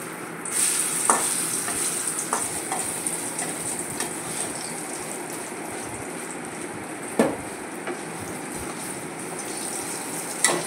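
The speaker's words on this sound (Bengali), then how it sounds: "গরম তেলে ছাড়িনি, এই জন্য এটা হালকাভাবে রান্নাটা হচ্ছে, ভাজাটা হচ্ছে।" Vegetables gently frying in oil left from frying bitter gourd, stirred in a pan: a continuous close sizzle and hiss with soft scraping strokes and an occasional sharper clack of the spatula, no voices.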